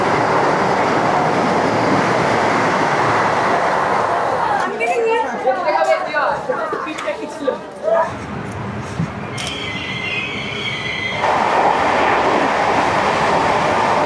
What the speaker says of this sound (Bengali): এখন বেরিয়ে যাচ্ছে দেখুন পাশ দিয়ে বন্দে ভারত